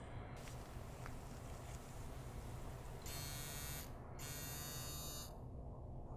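A scalp micropigmentation machine with its needle not fully retracting runs as a steady, high electric buzz. The whine grows sharper and louder partway through and cuts out briefly before it resumes.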